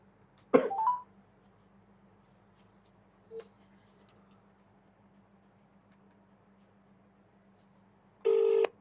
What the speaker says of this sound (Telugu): రింగ్ అయితే ఉంది మాట్లాడదాం రసమై బాలకిషన్ గారితో